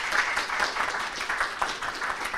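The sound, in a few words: audience applause for the panel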